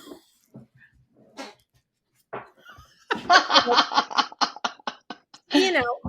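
A dog plays with a honking toy, rapid squeaky honks sounding in bursts, mixed with scattered laughter and talking nearby.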